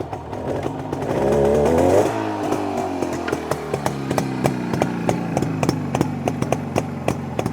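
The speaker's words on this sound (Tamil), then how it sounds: "ஆக்சுவலாக உங்களுக்கு அந்த 2 சிலிண்டர்ஸ் வந்து ஃபயர் ஆகுறது சவுண்டுமே கேட்கும்" A Yezdi 350 Twin vintage two-stroke motorcycle engine with two cylinders firing, revving briefly up and then settling into a steady, close, loud idle with a rapid regular thumping beat.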